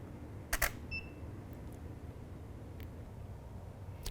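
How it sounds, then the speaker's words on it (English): A camera shutter fires once with a sharp double click, close up, while a still-life test shot is taken in a quiet indoor setup, followed by faint ticks and low room hiss. "And we'll just capture a test image."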